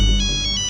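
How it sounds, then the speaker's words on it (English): A mobile phone ringtone sounds loud and close, a steady electronic tone that fills the short moment alone without any talk. "Your phone is ring."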